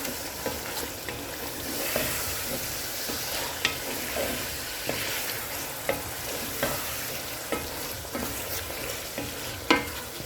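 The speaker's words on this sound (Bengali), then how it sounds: "এখন আমি আলুগুলো দিয়ে দিচ্ছি, একটু মিশিয়ে নিই মশলার সাথে।" Potatoes being stirred into spices in a frying pan for a spinach dish, a steady sizzle with repeated scraping strokes of a spoon against the pan at an irregular rhythm.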